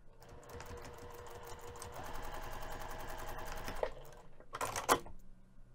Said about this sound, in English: We're going to be sewing this pinned edge using 1/4 inch seam allowance.